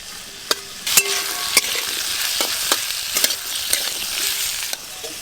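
Ingredients for a fish recipe sizzle steadily while lightly frying in a pan, with a constant hiss broken by sharp metallic clinks of a utensil stirring against the pan, close and without talk.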